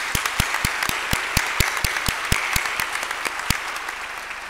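Applause for a speaker at the 2019 Archbishop Thabo Makgoba lecture, a steady patter of many hands with a few sharper near claps standing out, filling the room without any talk over it.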